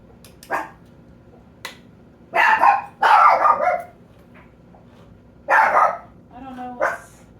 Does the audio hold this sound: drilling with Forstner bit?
no